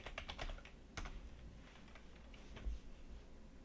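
Fingers type on a computer keyboard, producing quick, irregular, fairly faint clicks in a quiet room.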